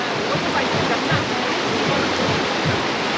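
Water from an army barracks near the Indo-Bhutan border rushes down in a steady stream, a loud, continuous close roar of flowing water with no break.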